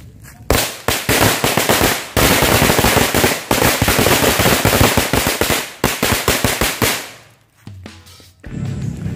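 A string of mercon firecrackers set off during the Ramadan fasting month goes off in a rapid, loud burst of sharp cracks lasting several seconds. A brief lull follows, and then a softer rumble.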